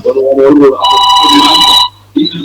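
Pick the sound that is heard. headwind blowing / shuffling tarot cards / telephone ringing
telephone ringing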